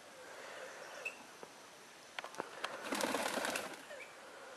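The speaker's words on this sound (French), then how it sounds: "les battements d'ailes des pigeons" Short fluttering bursts of pigeon wings flapping in an aviary, clustered in the middle of the clip, fairly faint against a soft outdoor background.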